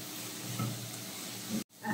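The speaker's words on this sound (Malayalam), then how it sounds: "ഉള്ളി നല്ലതുപോലെ ഒന്ന് വഴന്ന് വന്നിട്ട് നമുക്ക് കക്ക ഇറച്ചിട്ട് കൊടുക്കാം" Onions sautéing in a hot pan with clam meat going in for a Kerala kakka thoran, a steady close sizzle and hiss with faint stirring, broken by a brief drop to near silence before the frying returns.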